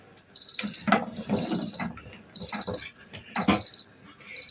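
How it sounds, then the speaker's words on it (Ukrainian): Repeated high-pitched electronic beeping in short bursts, a kitchen timer going off in quick pulses while someone boiling quail eggs moves about and clatters nearby. "І зараз працює таймер."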